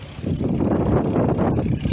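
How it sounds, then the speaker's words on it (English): Wind buffets the microphone at Dana Point Harbor, California, a rough, gusty rumble that stays loud and close for under two seconds with no talk. "The weather's different, it's windy, it's cooler."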